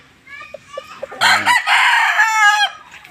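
A fighting rooster crows loudly and close, a long strained call, after a few short clucks.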